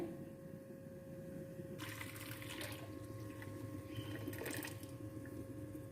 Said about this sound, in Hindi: जैसे हमने जली पाउडर को पानी में हल कर लिया है, अभी हम एक डिश में निकाल लेते हैं